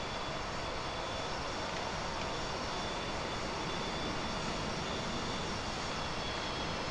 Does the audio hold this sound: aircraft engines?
yes